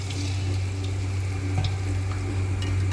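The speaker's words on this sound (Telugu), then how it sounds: "ఆయిల్లో మంచిగా తేలుతూ వేగాలి." Mysore bonda batter fries in hot oil over low heat with a continuous bubbling sizzle and a few faint pops over a steady low hum.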